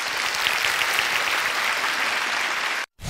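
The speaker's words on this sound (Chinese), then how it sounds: "掌声欢迎。" Studio audience applause on a Chinese television job-hunting show, a dense steady wash of clapping from a full room that continues evenly for about three seconds before stopping sharply.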